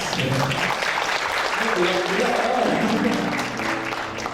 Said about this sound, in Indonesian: Tepuk tangan juga untuk Maya Uda di atas.